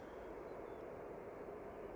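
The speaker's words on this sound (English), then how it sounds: "I can hear a plane at the other end." A distant airplane at Manchester Airport gives off a faint, steady low rumble and drone that holds evenly throughout, with no voices.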